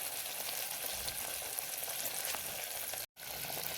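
Stuffed brinjals (bharva baingan) sizzle and fry in a pan while being stirred, a steady close crackle with small scraping touches and a brief dropout near the end.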